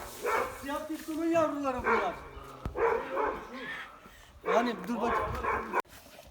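A dog barks and yips several times while people talk excitedly nearby.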